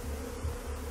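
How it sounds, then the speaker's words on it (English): A dense swarm of bees drones in a continuous, loud buzz that fills the whole second, steady and close with no voices. "Wow, Coyote, there you are just covered in bees, man."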